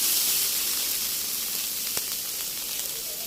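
Onion sautéing with garlic in a pan gives a steady, bright sizzle and hiss close by, with one brief sharp tap near the middle.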